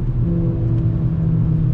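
A Volkswagen Jetta five-cylinder engine with a straight-pipe exhaust, revving hard and loud at close range in a steady, throaty rumble, with no voices.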